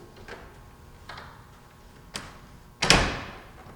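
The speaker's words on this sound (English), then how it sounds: "Then just shut the doors like this." Murphy bed cabinet doors being shut, with three light knocks followed by a firm, loud close that rings briefly. The sounds are close by, and no one speaks.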